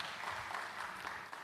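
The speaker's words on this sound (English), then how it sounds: "A round of applause for Mr. Agule Ashaba." Brief applause from a symposium audience in Uganda, a soft wash of clapping heard at a distance, fairly quiet.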